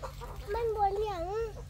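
A chicken clucks while eating, a run of close, wavering clucks and short calls over a low background hum.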